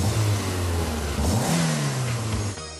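A car engine revs up and down loudly and close by during carburetor tuning, its pitch rising and falling in bursts before dropping off at the end.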